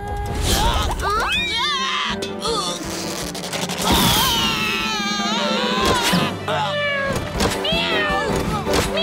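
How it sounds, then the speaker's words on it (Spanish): A cartoon cat yowls loudly and shrilly in repeated wavering cries, mixed with crashes and thwacks and excited cartoon voices talking over the noise. "¡Solo que es fuerte y agudo! ¡Como un gato aullando!"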